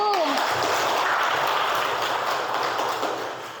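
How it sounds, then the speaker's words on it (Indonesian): Students in a classroom give a dense burst of applause for a presenting group. The clapping holds loud and even, then fades toward the end. "Tepuk tangan untuk kelompok 1"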